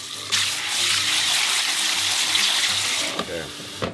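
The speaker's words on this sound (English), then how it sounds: "Give it one more rinse." Foraged wild greens being rinsed in a sink on a camping trip, with tap water gushing steadily for about three seconds, then cutting off into a few close clinks and splashes.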